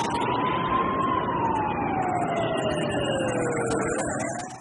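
Ambulance siren wailing steadily and loudly in a slow sweeping tone, close by with road vehicle rumble underneath, no talk.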